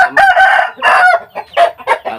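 A rooster crows loudly and close by, one long drawn-out call followed by a few shorter, choppy crowing bursts.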